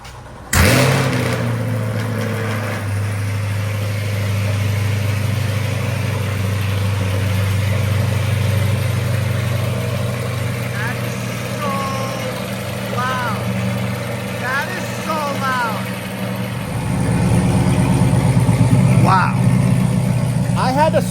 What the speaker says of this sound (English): This is the first cold start ever with this exhaust.